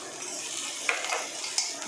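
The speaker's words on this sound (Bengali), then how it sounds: "একটুখানি আদা একটু ভাজা ভাজা করে নিই" Ginger frying in a pan with a spoonful of oil, a soft steady sizzle with a couple of light spoon clinks against the pan.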